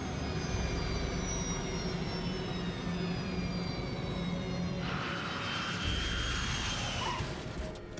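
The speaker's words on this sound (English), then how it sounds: "The plane touches down at 7:32 a.m." A passenger jet lands at Stord airport with thrust being reduced, its engines giving a loud, steady roar with a high whine. Near the end a rushing surge rises over the drone, heard close and without voices.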